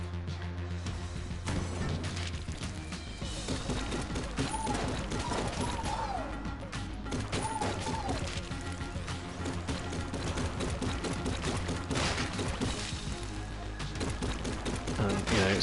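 Cheese gun firing in Enter the Gungeon, a rapid stream of shots over dense game music and effects, steady and busy throughout with a few bright rising chirps in the middle.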